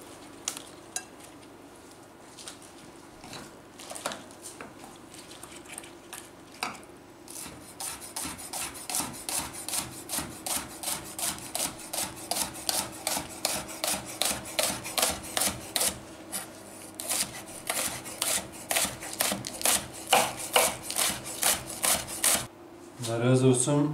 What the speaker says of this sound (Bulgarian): Сега започвам да режа пресния лук.